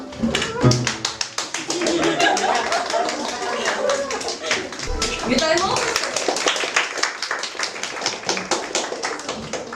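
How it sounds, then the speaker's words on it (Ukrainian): Audience clapping to greet a team at a children's solfeggio contest and entertainment show, dense rapid hand claps filling the hall from start to finish, with a host briefly speaking over it. "Вітаємо оплесками!"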